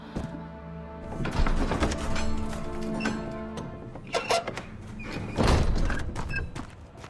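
A wooden door in the Amnesia horror game creaks and thuds open, with several heavy knocks and scraping movements close by under a low sustained musical drone.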